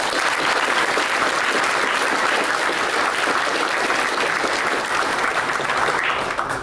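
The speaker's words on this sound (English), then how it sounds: "I want a round of applause for John." A full room at an investor forum luncheon bursts into loud, continuous applause for a speaker, a thick unbroken roar of clapping that holds steady from start to end.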